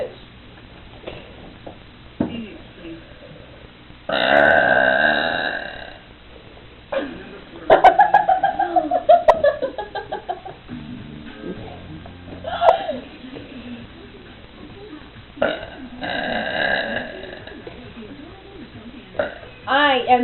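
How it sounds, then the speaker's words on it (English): A woman burps loudly several times during a burping contest, with long croaking belches spread between bursts of talk and laughter. "I am the burping queen."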